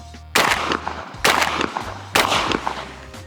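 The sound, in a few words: Benelli Ethos Sport 28 gauge shotgun firing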